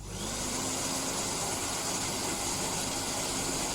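A Gamma Piu 3300 hair dryer runs on its lowest setting, a loud, steady whooshing hiss of the motor and airflow, close and continuous from start to end.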